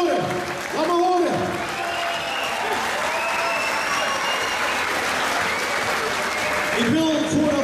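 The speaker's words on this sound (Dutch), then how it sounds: "Dames en heren, mag een hele grote applaus voor deze twee kantjes" A crowd at the House of Pain 2016 fight event cheers and claps loudly for two fighters, a sustained roar of applause with an announcer's voice booming over it at the start and end.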